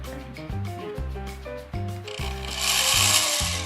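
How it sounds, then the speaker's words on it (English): An old drill bores a hole through a workpiece during caboose restoration, its motor running in repeated pulsing strokes with a tonal whine, rising into a harsher grinding hiss toward the end. "so now we're going to drill the hole"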